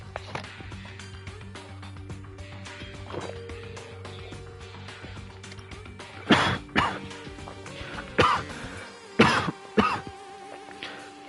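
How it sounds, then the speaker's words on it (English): A person coughs in a few harsh, separate bursts near the microphone over a low electronic hum and soft background clicks, with no speech. "Oh shit, I'm so coughing."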